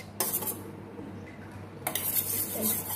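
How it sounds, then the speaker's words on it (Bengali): A spoon clinks and scrapes against a bowl while one spoonful of arrowroot is stirred into cold milk for mango pudding, two bursts of close metallic clatter over a low steady hum. "1 চামচ অ্যারারুট দিয়ে দুধটার সাথে মিশিয়ে রেখে দেবো"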